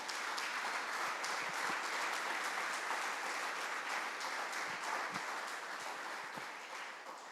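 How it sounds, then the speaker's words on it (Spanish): A church congregation claps steadily throughout, a dense, sustained round of applause at moderate distance with only faint voices underneath. "Denle un aplauso, Señor."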